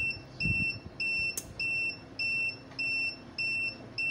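A SNADI 1000W 12V pure sine inverter under overload above about 1000 watts sounds its alarm, a steady run of high electronic beeps in regular on-off pulses, close and clear, with no one talking.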